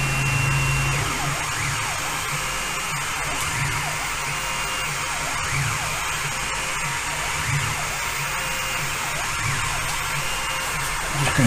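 A Genmitsu LC40 10-watt laser engraver runs its framing move, giving a steady, continuous mechanical whir with fan-like hiss that holds evenly throughout, with no talking.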